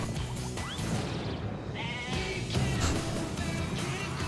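Goats bleat in the Goat Simulator More Goats Edition trailer, several loud wavering cries in quick succession over a busy game soundtrack.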